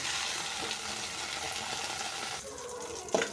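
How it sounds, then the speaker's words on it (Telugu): Fenugreek leaves frying in a little oil in a pan on a stove give a steady, close hiss of sizzling that runs throughout, with a brief stirring clatter near the end. "స్టవ్ ఆన్ చేసి ప్యాన్ పెట్టుకొని ఫస్ట్ మనం మెంతాకు కొద్దిగా వేయించేసుకోవాలి."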